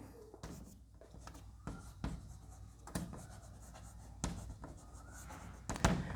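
A pencil scratches across paper in short, faint strokes and taps while a diagonal scale in feet and inches is drawn by hand.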